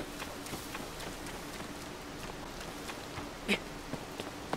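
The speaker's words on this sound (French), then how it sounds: "Il pleut toujours." Rain falls in The Legend of Zelda: Tears of the Kingdom, a soft, steady hiss of drops with faint scattered ticks and one brief louder patter, low in level and with no talk.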